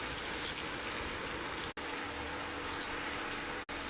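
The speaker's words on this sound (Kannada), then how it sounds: "ಚೆನ್ನಾಗಿ ಫ್ರೈ ಮಾಡೋಣ." Onion sizzling in a pan for a prawn masala gravy: a steady, soft, rain-like hiss that holds evenly, broken by two abrupt momentary gaps, with no voices.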